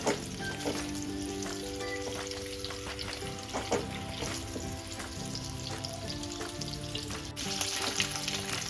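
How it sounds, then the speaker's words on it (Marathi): Food frying in ghee in a pan while a fasting-day snack is cooked, with a steady soft sizzle and occasional crackles and stirring scrapes, fairly quiet throughout. "आता एक 4 ते 5 मिनिट आपल्याला अगदी व्यवस्थित असं तुपामध्ये अगदी व्यवस्थित असं भाजून घ्यायचंय।"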